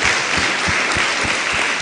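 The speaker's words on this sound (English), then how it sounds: "I think we ought to give another round of applause for our teacher" Loud, dense applause from a large audience fills the room after an inaugural university lecture on planetary sciences, sustained clapping throughout with no voices.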